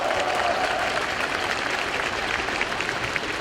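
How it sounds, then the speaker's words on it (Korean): Strong applause from a crowd of union members at a Korean national labor rally, a dense, even roar of clapping sustained at a loud level throughout with no talking over it. "힘찬 박수 부탁드립니다"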